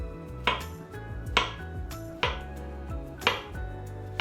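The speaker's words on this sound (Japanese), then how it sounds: "竹素材で結構切った時の感覚も気持ちいい、トントントントン言って気持ちいいんですけど、ちょっと切ってみようと思います" A kitchen knife strikes a bamboo cutting board in four crisp, roughly evenly spaced knocks, each ringing briefly, close and alone without talk.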